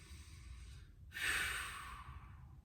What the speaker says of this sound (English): take a long deep breath